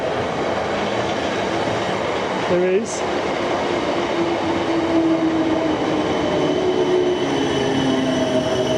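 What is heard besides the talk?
train passing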